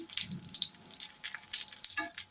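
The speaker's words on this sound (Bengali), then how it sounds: "বরাবর লাল লাল করে ভেজে নিই" Chili pakoras sizzling and crackling in hot frying oil, a soft, steady fizz with scattered sharp pops, close and quiet, with no talking.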